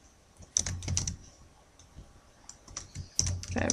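Keys on a computer keyboard clack in short irregular bursts, close and fairly quiet, with pauses between clusters of rapid taps.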